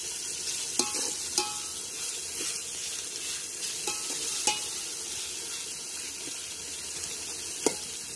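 Onions sautéing in a pan for village-style chicken biryani give a steady sizzle of frying, with occasional sharp clicks of a spoon stirring against the pan and no voices.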